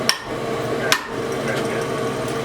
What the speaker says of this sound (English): so we have to continually drive the drift back in to maintain the hole.